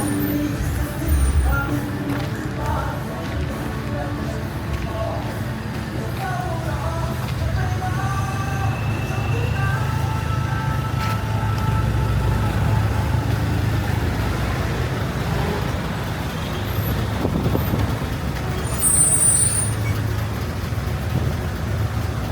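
Steady traffic on a larger road in Phuket, Thailand, with tuk-tuks about: a continuous low rumble of passing cars and engines at moderate distance, with no clear speech.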